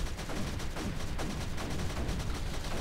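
Aircraft strafing fire in a video game crackles in rapid, continuous bursts, a dense rattle of distant gunshots and impacts with no pauses.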